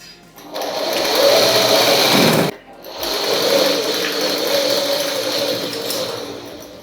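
A sewing machine stitches fabric in two steady runs separated by a brief stop, close and clear, with a continuous motor whir and no talking.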